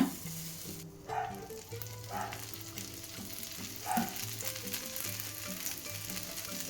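Lentil adai dosa batter sizzles steadily on a hot pan with a constant close frying hiss, and low tonal background music runs underneath.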